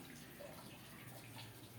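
Tap water running steadily into a basin as cold water is mixed into hot to make lukewarm water for a neti nasal pot; a faint, continuous wash of flow with no talking.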